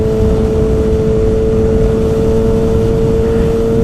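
A 2019 Kawasaki Ninja ZX-6R fitted with a full M4 GP exhaust holds a steady, loud engine drone at highway speed, with a constant tonal hum over rushing wind noise throughout.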